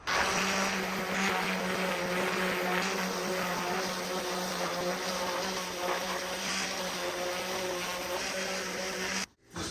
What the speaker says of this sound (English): I'm gonna sand it just to make it a little bit more roundish with the sander